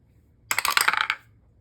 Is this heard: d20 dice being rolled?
yes